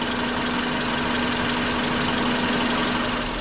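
The engine of a 1997 Subaru Legacy idles just after start-up, a steady, loud, close mechanical drone with an even hum and no change in pace, and no voices.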